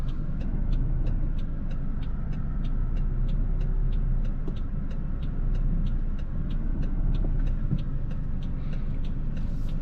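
A car reverses slowly into a parking space, its low engine rumble steady and close, with a regular high ticking repeating throughout.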